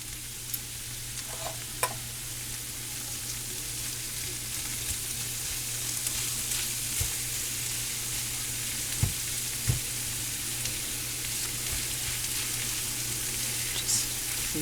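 Canned corned beef and cabbage frying in a pan, a steady close sizzle running throughout with occasional soft scrapes and clicks as the food is stirred.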